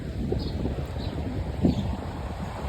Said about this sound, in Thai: ลมมันแรงนะครับ ลมมันแรง